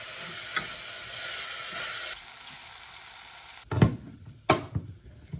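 Rinsed brown rice drops into a pot of hot ginger and shallots and sizzles steadily; the frying hiss quiets partway through, followed by a few sharp spoon clanks and stirring knocks against the pot.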